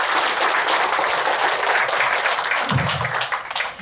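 An audience at a Gwangju launch ceremony marking 160 years of Koryo-saram and Korean migration breaks into dense, sustained applause that tapers off near the end.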